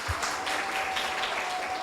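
Audience applause at a youth public speaking event: dense, steady clapping from a crowd, sustained at an even level throughout.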